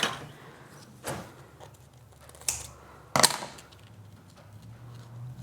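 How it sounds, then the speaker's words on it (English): Scissors snip into a light, airy, fluffy bread dough in a quiet kitchen: three sharp, isolated cuts spaced about a second apart over low background noise, with no talking. "If I get some scissors."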